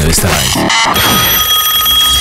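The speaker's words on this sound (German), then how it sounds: "Hier ist der Ö3-Wecker." The Ö3 radio wake-up alarm jingle rings out loud and bright, a short electronic alarm-like chime sequence with a voice over part of it.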